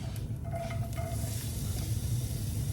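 Onion and chopped eggplant frying in oil in a pan, a steady close sizzle with a faint scrape of stirring and no voice over it.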